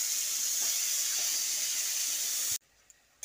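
Chopped onions frying in a pan, giving a loud, steady broadband hiss and sizzle close up that cuts off abruptly near the end, leaving a quiet room with a couple of small knocks.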